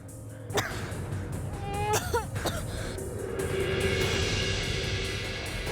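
A few sharp coughs sound close by amid background noise and a squeaky, whining tone, brief and uneven.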